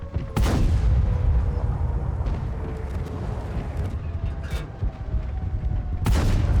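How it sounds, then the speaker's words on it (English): Tank gun firing in World of Tanks, two loud booming cannon shots several seconds apart over a rumbling battle-engine drone, with fainter distant shots between. "I want to see if I can get one more shot off"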